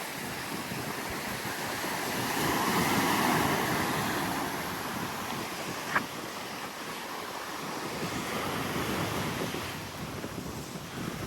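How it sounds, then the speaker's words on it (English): Surf from the sea near a beach hotel in Hammamet rolls in a steady broadband wash, swelling and easing, with wind buffeting the microphone and one brief knock partway through. "And it's quite close to the sea, as you can see."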